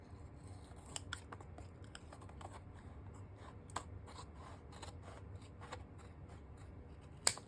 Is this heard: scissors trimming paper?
yes